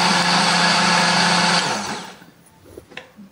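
A kitchen blender grinds candlenuts, shallots, garlic and chili with a little water into a paste, a loud, steady whirring roar that cuts off after about two seconds and leaves faint clatter.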